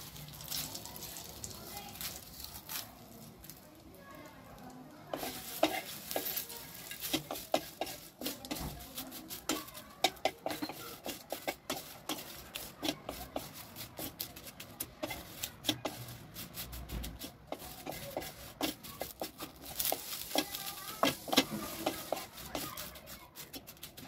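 Bay leaves and whole spices stirred and roasting in a pan for homemade Maharashtrian masala, with steady scraping, rustling and light sizzling throughout, fairly close.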